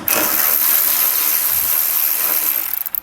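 Ratchet wrench removing a 10mm nut on the passenger side of a 2021 vehicle, a quick, close run of metallic clicking that ends in a few separate clicks.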